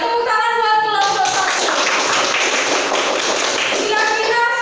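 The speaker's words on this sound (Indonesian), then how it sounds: "Tepuk tangan buat kelompok" Students in an Indonesian classroom clap for a presenting group: a burst of brisk, fairly loud hand clapping from many pupils that begins after a moment and fades out after about three seconds, with voices heard around it.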